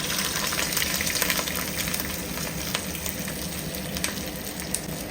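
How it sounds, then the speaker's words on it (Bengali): Dried red chilli oil, made by frying dried chillies, being poured into a pan, giving a steady, fairly loud sizzle and crackle with faint spatters and no voices. "শুকনো লঙ্কার তেলটা মিক্স হয়ে গেছে, আর এটা আমি পুরোটা এটার মধ্যে এখন ঢেলে দেবো."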